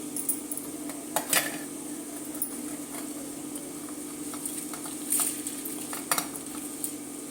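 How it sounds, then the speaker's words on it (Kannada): Roasted masala spices go into a dish for Mandya-style country chicken curry, with a steady sizzle and sharp metallic clinks and scrapes of a spoon against the pan at a few moments, close and without talking. "ಹುರ್ಕೊಂಡಿರೋ ಎಲ್ಲ ಮಸಾಲನ ಹಾಕ್ತಾಯಿದ್ದೀನಿ."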